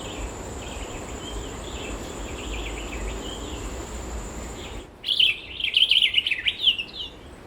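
Birdsong on a forest trail in Africa, a wash of insect and cricket buzz with scattered distant chirps, then a burst of loud, close, rapid bird calls in the final seconds.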